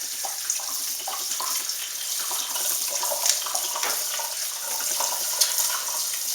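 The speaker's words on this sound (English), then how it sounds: "And you want to use cold water." Cold tap water runs steadily into a sink while food is being prepared for dehydrating, a constant hiss and splash with no speech.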